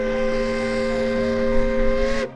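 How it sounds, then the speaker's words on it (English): A sustained, steady steam locomotive whistle sounds loud and close in Robinson Canyon, Ely, Nevada, layered with a hissing rush of steam, then cuts off abruptly near the end. "with the sound of ancient steam bouncing off the walls of Robinson Canyon"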